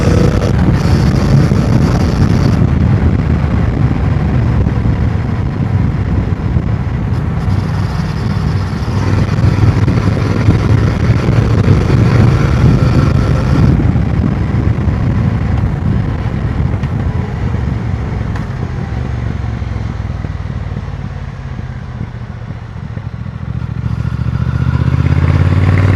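A motorcycle rides along back roads on a short trip for coffee, its engine a loud continuous drone mixed with heavy wind rush across the microphone, rising and easing with the throttle.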